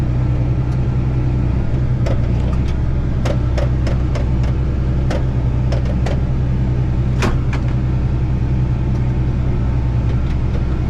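A John Deere 8400 tractor engine runs at a steady, close, loud rumble while gears are shifted, with a few sharp clicks and clunks spaced through the constant drone.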